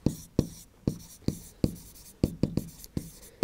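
Pen or marker strokes on a board while a math problem is worked out: about a dozen sharp, close taps and scratches in an uneven rhythm, with no talking over them.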